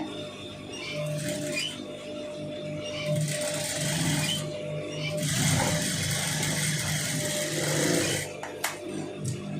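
Sewing machine stitching a long sleeve in bursts, a rapid close whirring patter that starts and stops several times with short pauses between runs.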